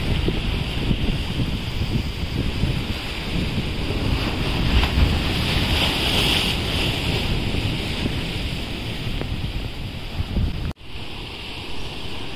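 Rough, choppy sea around a fishing boat out after barramundi, with steady loud wind buffeting the microphone and constant surf wash for the whole stretch, broken by one brief dropout near the end; no voices.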